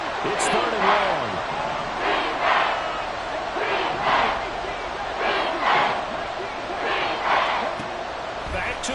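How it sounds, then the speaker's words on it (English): Video game stadium crowd in Madden 24 roaring steadily through a football play, the noise swelling in repeated surges with a commentator talking over it. "This crowd turning up the decibel level."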